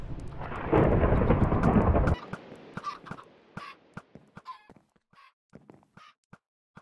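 Loud rolling thunder rumbles broadly for about two seconds in a Minecraft modpack world, then cuts off, leaving quiet scattered clicks and soft game sounds.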